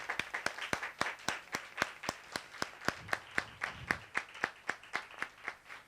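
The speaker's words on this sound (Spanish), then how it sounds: "Un aplauso para la maestra Isabel, por favor." Sparse applause for a teacher at a panel discussion, a small group clapping in a slow, steady, evenly spaced rhythm, quiet and fairly close, with a faint murmur of voices partway through.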